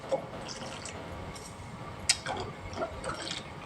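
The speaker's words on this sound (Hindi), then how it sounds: "ये देखें दूध में अच्छे से उबाल आ रहा है।" Milk comes to a boil in a pan on the stove for a quick custard dessert, giving a low bubbling simmer with scattered small pops and drips, faint and steady throughout.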